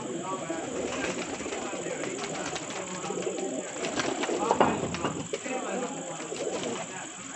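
Racing pigeons coo steadily on a rooftop loft, a dense, continuous murmur of overlapping calls that swells slightly near the middle, with faint background voices underneath.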